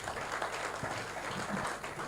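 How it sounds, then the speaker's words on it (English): A faint, distant round of applause from a youth summit audience in Nigeria, a steady wash of clapping at low volume with no talk over it. "Please, a round of applause for him again."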